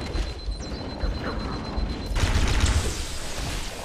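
Sustained gunfire and explosions from a battle in Halo: Combat Evolved, a dense stream of rapid shots and rumbling booms close by that grows heavier partway through, with no pause.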